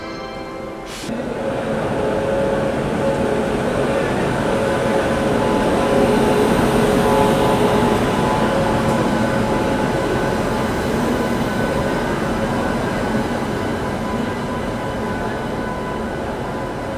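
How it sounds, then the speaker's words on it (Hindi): The Sealdah Rajdhani Express rolls into platform 2 at an Indian railway station with a loud, sustained rumble of wheels and carriages. Faint tonal hums ride over the broad noise, which swells and then holds steady. No one speaks. "शालदा राजधानी अराइव कर रही है प्लेटफॉर्म नंबर 2 पे"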